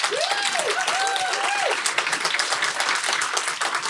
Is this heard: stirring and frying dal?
no